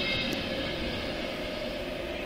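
A train rolls past at steady volume, a broad continuous roar and rumble that stays constant throughout without any talking.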